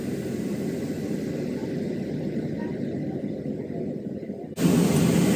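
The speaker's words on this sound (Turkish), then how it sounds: "biraz uçağımız iniyor ama gerçekten çok zor bir yolculuk geçirdik" Steady loud roar of a jet cabin with broad rushing noise, shifting abruptly near the end as the engine sound changes during descent.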